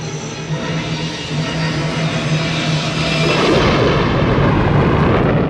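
A big explosion in the horror film Phantasm II swells into a dense, roaring rumble that grows louder partway through and holds as a heavy, sustained blast of noise.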